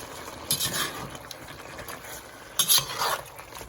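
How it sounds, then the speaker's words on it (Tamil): Ginger garlic paste and a handful of curry leaves sizzle softly in a pan for pepper chicken, with two bursts of spatula stirring and scraping over the low frying hiss. "ஒரு பிடி கருவேப்பிலையும் போட்டுட்டு நல்ல வடிவாக இதை கிண்டி விடுவோம்"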